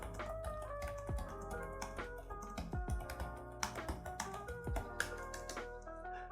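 Typing on the keyboard of an MSI Stealth 15M laptop, a clicky, tactile board giving a close, continuous stream of crisp key taps and clacks with occasional sharper strikes, over a low background hum.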